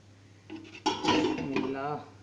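A cake tin is set down into a heated cooking pot with one sharp metallic clank, followed by someone speaking over faint scraping.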